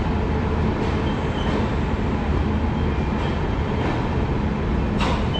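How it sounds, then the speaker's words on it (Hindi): Jaynagar Garib Rath LHB express at a station, a steady loud rumble of rolling railcars with faint metallic clicks, continuous and close. "और यहाँ पे ट्रेन आई है 52 मिनट डिले के साथ।"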